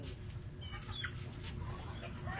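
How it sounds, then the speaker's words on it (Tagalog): Farm chickens cluck softly and intermittently in a quiet outdoor setting, a few short calls rising over low background rumble. "nangangatok na po yung ating mga manok"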